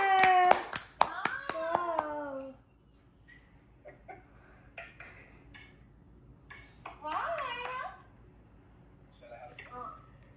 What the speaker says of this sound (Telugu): క్లాప్ కొట్టండి.